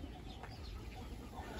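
Low, steady clucking from two young Indian Game (Aseel-type) roosters in a backyard coop, a continuous near murmur of soft fowl calls without speech.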